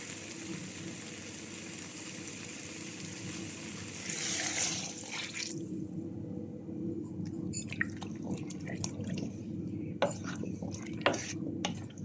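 Food cooks in a small saucepan with a hissing simmer that fades, then a spoon stirs and scrapes, giving irregular clinks and knocks against the metal pot.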